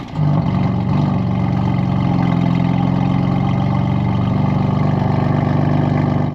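A 2018 BMW M3 F80 with its S55 engine running, a steady loud mechanical drone starting abruptly and holding an even, slightly rising tone throughout, no speech over it.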